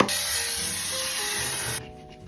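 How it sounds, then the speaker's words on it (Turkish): Makeup setting spray hisses out in one continuous, close burst lasting under two seconds, then cuts off, leaving soft faint rustling. "Maskaradan önce makyaj sabitleyici sprey sıkacağım."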